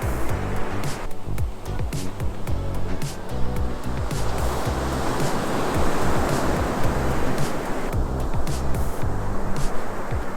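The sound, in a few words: ocean waves on an empty cold beach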